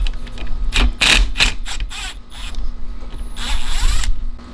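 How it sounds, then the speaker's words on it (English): A 7/16 wrench or socket ratchets a nut loose on a Toro Timemaster walk-behind mower. Several short bursts of close, metallic clicking come in uneven spurts. "This nut right here has got to be backed off. You have to use a 7/16 wrench or a socket."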